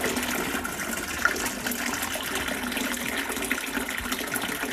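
Wine kit concentrate drains out of a bucket for a 23-litre Sauvignon Blanc batch, a steady, fairly loud gushing pour of liquid that runs unbroken for the whole stretch with no talking.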